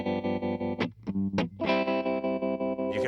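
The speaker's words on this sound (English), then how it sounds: "Here's an example of the square wave." Electric guitar played through an Electro Harmonix tremolo pedal set to a square wave, sustained chords chopped abruptly on and off in a choppy stop-start rhythm, loud and distorted with no voices.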